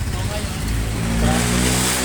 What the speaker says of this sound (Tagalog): Daming traffic.